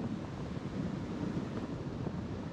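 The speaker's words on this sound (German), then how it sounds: "der Wind ist schon recht kalt" Cold wind gusting along the coast buffets the microphone, a dense low rumble that stays steady and close with no voices heard.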